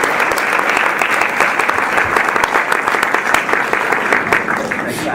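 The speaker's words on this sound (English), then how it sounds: "let's give Ron a round of applause" A conference audience applauds at an opening session, with sustained, dense clapping from a large crowd, steady and fairly loud for the whole stretch with no break.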